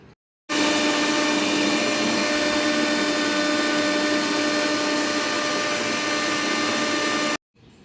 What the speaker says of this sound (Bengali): তারপরে এটা ভালোভাবে ব্লেন্ড করে নিতে হবে তো চলো ব্লেন্ড করে নিয়ে আসি